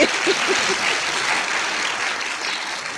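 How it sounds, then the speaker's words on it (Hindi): Audience applause in a hall at a yoga and concentration session, a dense, steady wash of many hands clapping that holds loud throughout, with a few brief voices near the start. "आ गई आपके तालियों में इतना पावर था"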